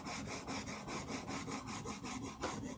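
A knife sharpened on a middle-grit whetstone rasps in quick, regular strokes, about five per second, a close, soft scraping rhythm with no talking.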